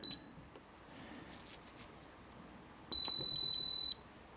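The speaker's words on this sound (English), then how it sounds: "When it beeps, we're then going to press number 2." A TEEHO fingerprint and keypad deadbolt gives a short beep, then after a pause a longer steady high-pitched tone with a few pulses, clear and close.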